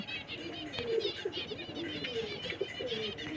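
A loft flock of pigeons coos in a continuous low murmur, many birds overlapping at moderate distance, with occasional chirps and a brief flutter of wings.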